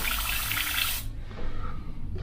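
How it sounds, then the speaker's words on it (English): Airbrush back-flushed with carbon black paint and a few drops of water in the cup: a loud hissing, bubbling gurgle for about a second, then cutting off to a softer low bubbling and faint rattle. "Back flush again, just to bubble it up."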